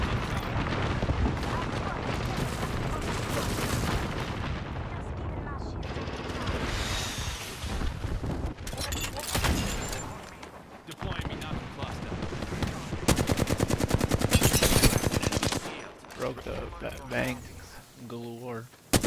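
Dense gunfire in a video game, with rapid automatic bursts, single heavy shots and booming impacts layered loudly over continuous game noise, with bursts of quieter lulls in between.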